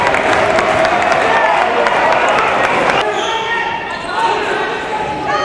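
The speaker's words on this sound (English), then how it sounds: "Listen to this crowd." Roaring crowd at a college conference basketball tournament game, a loud, dense cheer filling the arena with sneaker and ball noise mixed in, easing slightly toward the end.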